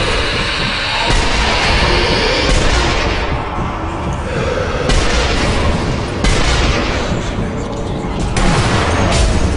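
Continuous heavy gunfire in a video game, dense loud bursts of shots and booms filling the whole stretch with barely a pause.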